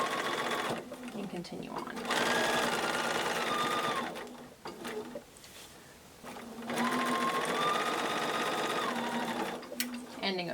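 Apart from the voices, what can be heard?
sewing machine stitching quilt block seams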